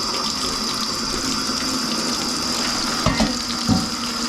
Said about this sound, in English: fill your sink up with some nice, cool water